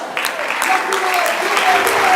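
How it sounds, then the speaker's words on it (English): A brief round of applause rises from the audience at a high school teen chefs cooking competition, clapping that builds over a couple of seconds, with voices mixed in. "now let's give a round of applause to"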